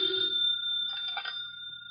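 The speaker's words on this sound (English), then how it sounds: "Could never ignore a phone call." A telephone bell rings in a short, bright, steady electric trill that stays fairly quiet and carries no talking.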